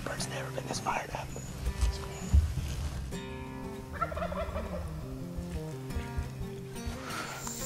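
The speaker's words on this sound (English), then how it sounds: "I got to hear some of my first turkey gobbles" Wild California turkeys gobble in the woods in the morning, with repeated rattling gobbles at moderate distance over several seconds while hushed whispering continues close by.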